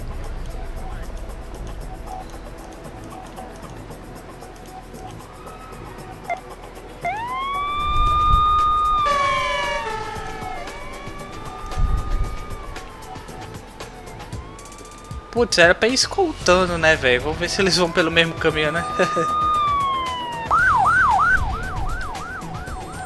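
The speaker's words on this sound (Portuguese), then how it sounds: "então desliga a sirene, velho" A police car siren in the Emergency 4 firefighting and rescue game with a Copenhagen mod wails in repeated rising and falling sweeps, then chirps and yelps rapidly near the end, while someone talks over it.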